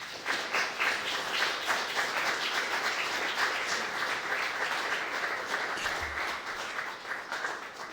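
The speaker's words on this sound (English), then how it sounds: "if we could get a round of applause for both our guests as they walk up" An audience at a live podcast recording bursts into sustained, lively clapping for two guests walking up to the stage; it is a full room of hands that holds steady for about eight seconds and then begins to thin slightly.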